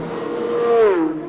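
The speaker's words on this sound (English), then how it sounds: "The Ferrari coming out of the pits." AF Corse Ferrari GTE Pro race car accelerating out of the pits, a single close engine note rising and then dropping in pitch as it passes, brief and loud.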